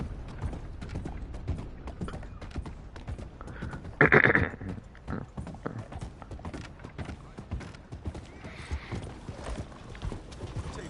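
A horse in the video game Red Dead Online plods along with soft, steady hoof clip-clops, and a sharper burst of noise briefly cuts through midway.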